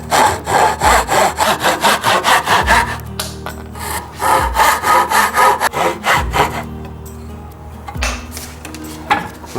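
A handsaw cuts the tenon cheeks of a wooden bridle joint, loud close rhythmic rasping strokes in several runs of quick back-and-forth passes separated by brief pauses.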